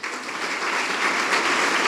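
Church congregation applauding during a sermon, a dense, steady wash of many hands clapping that swells slightly toward the end, with no voices over it.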